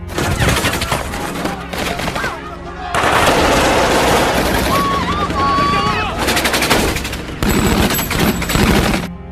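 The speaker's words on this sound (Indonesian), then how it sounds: "Di tengah tembak-tembakan" Heavy gunfire in a film battle scene with Al-Qaeda attackers, rapid loud machine-gun bursts and dense volleys filling the whole stretch, broken by brief lulls.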